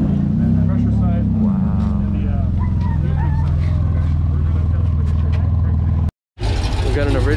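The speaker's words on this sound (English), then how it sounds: "That beautiful rumble from the side pipes." Original AC Cobra rumbles through its side exhaust pipes in a deep, loud, continuous engine drone close by, with speech over it and a brief cut near the end.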